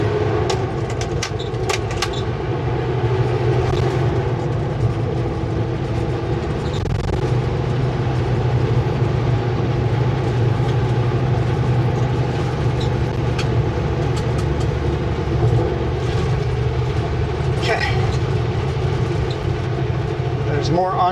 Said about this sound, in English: It sounds like maybe one or two. I think two for sure. A pickup and a semi truck.